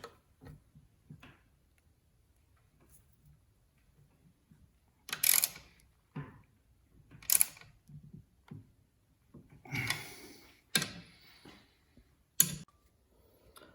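Ratcheting clicks and scattered metallic ticks come from a wrench tightening the rear axle nut on a Pony 4 bike, arriving in short bursts with quiet pauses between strokes and no one talking.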